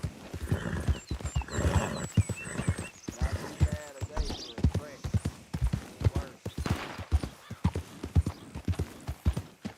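Steady clip-clop of horse hooves at a trot in Red Dead Redemption 2, rhythmic and close, with a brief whinny and voices talking over the footsteps.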